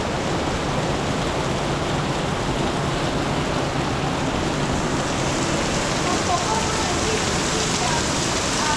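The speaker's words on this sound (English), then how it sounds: "Seems like it just keeps raining harder and harder and harder." Heavy rain pours onto a street on Rua de Sanches de Miranda in Macau, a dense, steady roaring hiss that stays loud and unbroken from start to finish.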